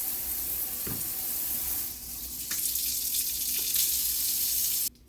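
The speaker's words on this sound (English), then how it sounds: "I'll fill this with water." Water running from a faucet into a kitchen sink, a steady close splashing hiss with a brief dip partway through before the flow continues and then cuts off at the end.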